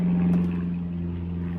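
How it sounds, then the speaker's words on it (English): A low, steady engine drone from aircraft passing overhead holds throughout, with a strong sustained hum and a slight swell near the start. "Funny how there's a bunch of planes"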